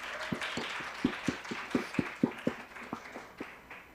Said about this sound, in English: Please give Nina a round of applause.